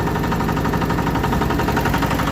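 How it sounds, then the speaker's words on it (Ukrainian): A Zubr 160 walk-behind tractor's small engine chugs loudly at close range with a pulsing, slightly uneven rhythm as its speed changes. "Чути як, як мотор міняє роботу."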